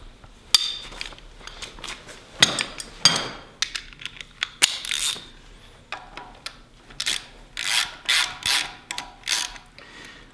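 Socket wrench ratcheting on a Mazda MX-5 Miata during a timing belt install, heard as repeated bursts of rapid clicking with short pauses between, close and fairly loud, with occasional metallic knocks and no talking.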